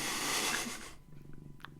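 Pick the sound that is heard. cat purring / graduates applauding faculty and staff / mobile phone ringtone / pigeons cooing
cat purring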